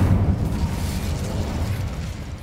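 A fire spell cast in the video game Hogwarts Legacy makes a loud, dense whooshing burst with heavy low rumble that holds steady for a couple of seconds, with no other sounds over it.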